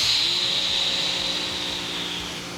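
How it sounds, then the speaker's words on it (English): A new Giraffe Tools pressure washer runs close by while spraying to clean an e-bike, giving a loud steady hissing whoosh over a motor hum that fades slightly toward the end. "What better way to clean up than with your brand new pressure washer?"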